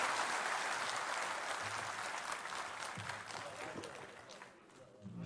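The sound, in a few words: audience applause for Ashok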